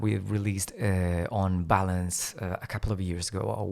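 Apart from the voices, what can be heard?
No everyday noises stand out.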